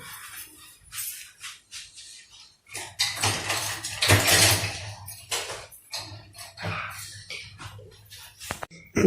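A knife slices through a steamed banana cake, its leaf wrapper removed, giving scattered clicks and scrapes against a plate or tray, close and fairly quiet, with short bursts and pauses between strokes.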